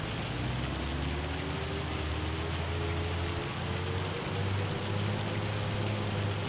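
Rain falling in Farming Simulator 25, a dense continuous hiss of rainfall over a low steady engine-like hum, with no speech.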